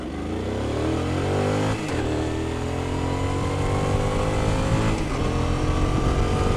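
A Suzuki Boulevard C50 cruiser motorcycle with about 40,000 km on it accelerates hard in first gear. The loud engine revs climb steeply in two long sweeps, each broken by a brief dip.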